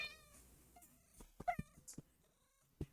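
Cat meows in a homemade RPG Maker jam game set in a jungle-forest, several short high cries scattered over a few seconds with small clicks between them, faint overall.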